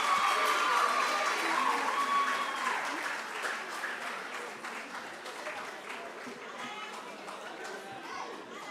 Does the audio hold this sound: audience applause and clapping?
yes